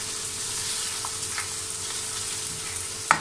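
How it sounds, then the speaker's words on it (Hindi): Finely chopped onions frying in a pan over medium heat, a steady close sizzle with faint stirring scrapes and a small clink at the end, no talk. "इसे मैं उस वक्त तक फ्राई करूंगी जब तक ये गोल्डन ब्राउन नहीं हो जाते।"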